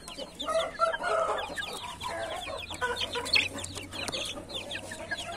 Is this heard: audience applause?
no